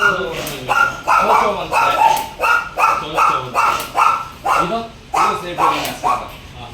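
Repeated loud barks from nearby dogs at a dog breeding farm, a rapid series of yaps and woofs coming one after another in an uneven rhythm.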